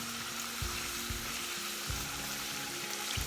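Vegan egg rolls frying in a pan of oil, a constant close crackling sizzle punctuated by a few soft low thumps as they are moved, with no speech.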